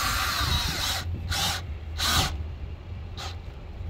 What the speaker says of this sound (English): now I'm just drilling it in there